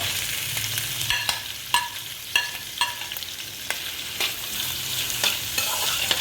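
Chopped onion sautéing in a pan with green chilli and curry leaves for a beef potato curry, a steady close sizzle broken by repeated sharp scrapes and taps of a stirring spoon, no talk.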